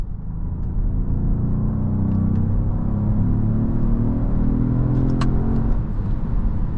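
Inside a 2025 Genesis GV80 Coupe, a 409 hp SUV cruising on the road, a steady low rumble of engine and road noise continues throughout, with faint ticks near the end.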